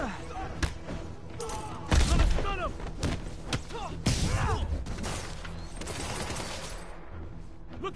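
Gunfire in a Spider-Man video game: rapid bursts of shots and sharp impacts, with heavy thuds and crashes near two and four seconds, loud and close amid game effects.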